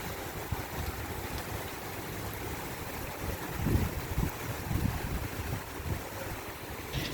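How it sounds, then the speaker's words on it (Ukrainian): Steady rushing rain with strong wind, a dense continuous roar that swells in gusts partway through, with no voices. "Дощ супроводжується вельми сильним вітром."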